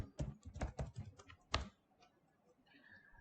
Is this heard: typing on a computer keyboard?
yes